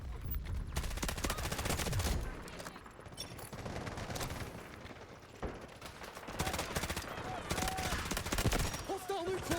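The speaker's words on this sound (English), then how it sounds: "My word, this gun's fire rate is insane." Rapid gunfire in the shooter game Delta Force, fast automatic bursts repeating close and loud across the span, with brief pauses between volleys.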